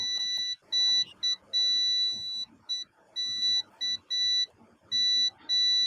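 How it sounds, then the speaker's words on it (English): A multimeter in continuity mode beeps in a series of steady high-pitched tones of varying length with short gaps, alone with faint handling noise beneath. "Let's check it with multimeter. Multimeter in continuity mode."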